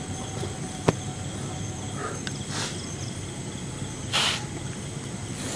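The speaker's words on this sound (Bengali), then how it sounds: "ঝিঝি পোকার ডাকের সাথে কিন্তু একটা ডাক আসতেছে কিন্তু" Crickets chirp softly through a quiet night, a steady faint background with a sharp click and a couple of brief hissing bursts; no talk.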